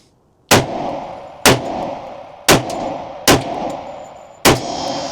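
Five sharp, loud shots from a 10mm Smith & Wesson M&P Carry Comp compensated pistol, fired close at roughly one-second intervals, each cracking report followed by a short ringing decay.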